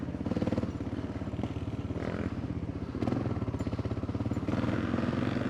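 Kawasaki KLR 650 single-cylinder motorcycle chugging along an off-road trail, close rapid rhythmic thumping pulses that dip and pick back up with throttle changes, with rattling clatter over rough ground.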